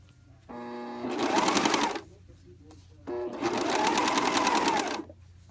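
A serger overlock machine stitches a knit blind hem in two short bursts, each starting with a whirring run-up and a fast, loud rattle before stopping.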